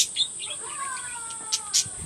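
Cockatiels, including a cinnamon split pied, chirp in short bright calls over a steady high hiss, with a few louder tweets standing out near the end.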